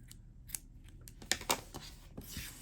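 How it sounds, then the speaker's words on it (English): Scissors snip through crochet yarn, giving a few close, crisp cuts and soft rustles in a quiet room with no voices. "We're going to cut our yarn"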